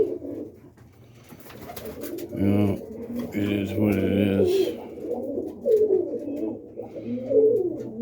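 Roller pigeons in a loft give deep, repeated throaty coos that come close and loud in overlapping bursts, while someone speaks briefly among them.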